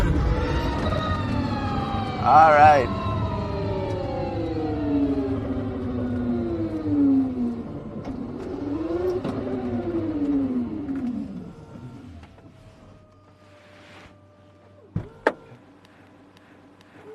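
Electric motors of an Aspark Owl hypercar whine loudly, rising and falling in pitch through several acceleration sweeps before fading away. A brief spoken remark and a couple of sharp clicks follow near the end.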